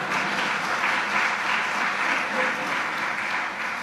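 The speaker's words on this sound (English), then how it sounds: "So please clap properly." A literary society audience claps for actor Anupam Kher in a broad, continuous round of applause filling the hall at a steady level, with no speech on top.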